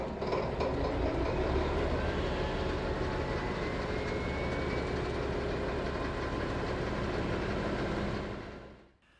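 A class 742 diesel shunting locomotive working in the rail yard at Pleševice, a loud, steady engine roar with rumbling throughout that fades away sharply at the end.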